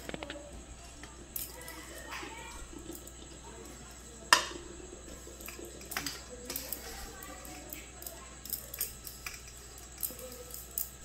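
Grated coconut tipped into a wok for making coconut naru: close, scratchy, rustling scrapes with a few sharper clinks, fairly quiet and uneven.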